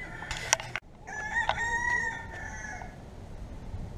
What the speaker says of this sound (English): Just a few minutes ago, somebody brought more chickens.